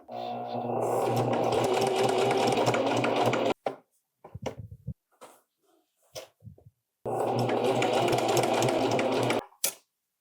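A sewing machine runs a long basting stitch along a pant leg in two steady, loud buzzing stretches, separated by a gap of brief clicks and fabric handling.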